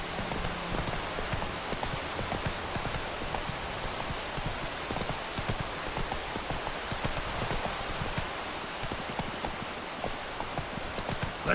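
Steady hoofbeats of Roach, the horse in The Witcher 3, galloping in a fast continuous rhythm under a wash of rain-like ambient noise, moderately close and fairly quiet throughout.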